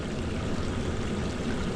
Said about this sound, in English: I've never seen that creek running before.